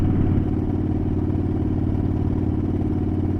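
A motorcycle cruising down the main street through Santa Clarita, its engine giving a steady, close, loud rumble with wind noise and no rise or fall in revs.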